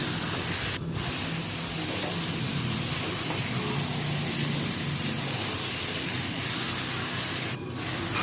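Marinated meat sizzling and hissing steadily as it is stir-fried in oil in a pan over low heat, with a continuous close spray-like crackle and faint scraping throughout.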